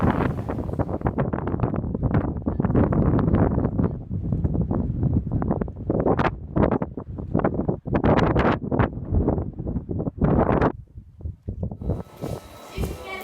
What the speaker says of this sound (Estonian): Vabandan suure tuule pärast